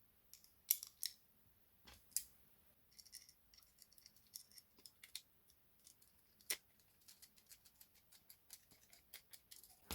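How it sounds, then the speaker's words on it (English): Small screw being driven into a PS5 DualSense controller shell, heard as a run of quiet, close, irregular clicks and ticks with occasional sharper plastic snaps, no talking. "And then put the screw in."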